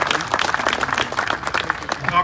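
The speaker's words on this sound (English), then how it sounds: "Another round of applause to all the teams that made today possible." A crowd at a school ribbon-cutting ceremony in Aurora, Illinois, claps in a brief round of applause, the clapping mixed with voices from the gathering.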